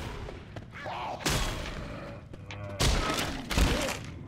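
Heavy gunfire bursts out in Left 4 Dead 2, several loud, booming volleys of shots with rumbling gaps between them and brief muffled sounds in the lulls.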